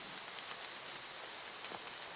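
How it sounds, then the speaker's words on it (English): Soft, steady patter of water drops falling from trees after rain onto leaves and ground at Morrow Mountain, a quiet continuous hiss with occasional slightly louder drips, no voices. "Just the water dripping off the trees above me"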